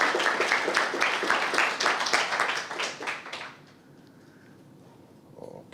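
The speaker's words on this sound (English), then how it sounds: "Big applause again." Audience applause at a conference lightning talk session, brisk rhythmic clapping for about three and a half seconds that then fades out and leaves quiet room noise.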